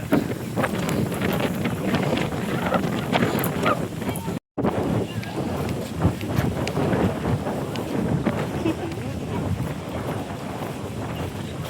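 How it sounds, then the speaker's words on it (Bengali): Heavy outdoor wind buffets the microphone in a constant loud rumble at a crowded Akshaya Tritiya Snan Yatra festival, with a brief dropout partway through. "প্রচুর পরিমাণে বাতাস, কথা হয়তো শোনা যাবে না।"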